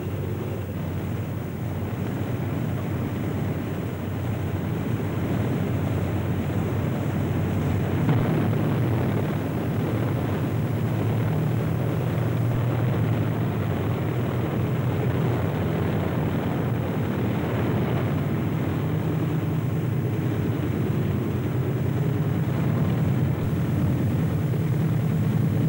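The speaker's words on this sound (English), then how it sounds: "We're going up to see how this airplane reacts." A WWII fighter, Airacobra or Thunderbolt, during test maneuvers: a continuous, broad, rushing engine roar, steady and fairly loud throughout, with a windy texture and no distinct changes.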